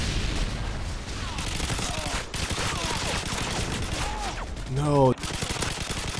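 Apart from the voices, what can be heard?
LMG gunfire in Call of Duty Modern Warfare 2 video game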